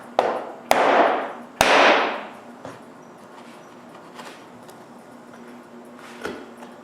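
A wood chisel, a little too wide for the job, widens a knife mark in a woodworking tool-holder project. A few sharp, close knocks ring out early, then lighter taps follow over a quiet background.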